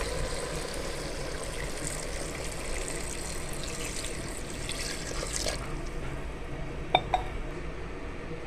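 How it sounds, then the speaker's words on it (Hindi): Water runs steadily into a pressure cooker for several seconds, then stops, followed by a couple of faint metallic clinks. "1 गिलास पानी शामिल करेंगे।"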